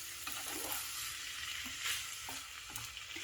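Spiced chicken mince with frozen peas and corn sizzles steadily in a pan, a close continuous frying hiss with a few soft stirring scrapes and no talk.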